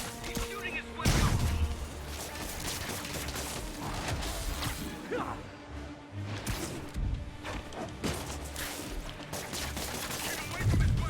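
Bursts of gunfire with crashing impacts in Marvel's Spider-Man on PS4, loud and close, recurring in clusters throughout with swooshes and speech mixed in.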